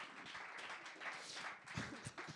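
A studio audience claps at a Spanish television show, a brief, steady patter of applause at moderate volume with faint voices mixed in.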